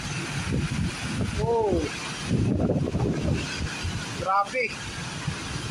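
Gusty tropical storm wind roars against the microphone in buffeting bursts on the Gulf of Mexico during landfall, while a person exclaims over the noise.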